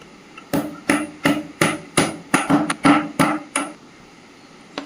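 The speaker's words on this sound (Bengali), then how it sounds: "এবার কিছুটা গোলমরিচ গুঁড়ো করে নেব।" Black pepper being crushed into powder by hand, about a dozen sharp, evenly spaced pounding strikes close by, ending in quiet.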